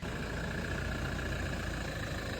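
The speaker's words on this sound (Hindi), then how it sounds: "3000 सीसी का डीजल इंजन कैसे आवाज निकाल रहा है" A 3000 cc diesel engine in a converted Toyota Fortuner idles steadily nearby, a constant low rumble with a faint whine, no voices.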